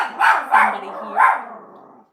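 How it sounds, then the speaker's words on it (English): A pet dog named Stella barks three times indoors, loud, close and evenly spaced, each bark trailing off into a short ringing tail. "So you're going to have to hold on a minute and listen to Stella bark."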